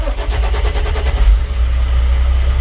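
Truck engine cranking with rapid rhythmic churning, catching, then settling into a deep, steady idle close by during a CDL pre-trip inspection, with no voices over it.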